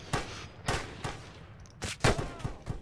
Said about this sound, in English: it looks like they're just firing into the air